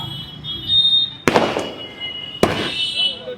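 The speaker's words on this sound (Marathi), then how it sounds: "आपले फटाके पण फुटायला चालू" Two sharp, loud firecracker bursts at a Sai palkhi procession, about a second apart, each cracking and then fading into a crowd's noisy background.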